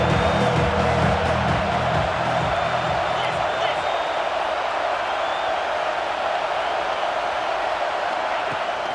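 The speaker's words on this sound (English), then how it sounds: "Decibels rising as the crowd gets behind this defense on 3rd down." Football stadium crowd at a Texas A&M game roaring steadily on a third-down defensive stand, a dense, loud wash of cheering that holds for the whole stretch, with a low rumble early on.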